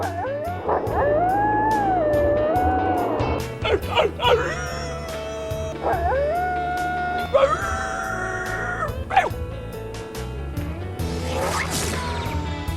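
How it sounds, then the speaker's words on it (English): A pack of coyotes howls in long, wavering, rising and falling cries, several voices overlapping and breaking into yips, fairly close and loud over a low background rumble. "Coyotes travel in groups called packs and communicate with each other by howling."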